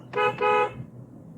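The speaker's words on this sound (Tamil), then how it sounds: "ஹாரன் ஒரு முறை" Two short car horn honks in quick succession, fairly close and loud, followed by quiet road hum.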